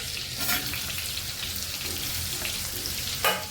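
Chopped onion sautés in hot oil alongside cloves and bay leaf for Kolhapuri vegetable curry, giving a steady, close hiss and sizzle with faint stirring scrapes and no talk.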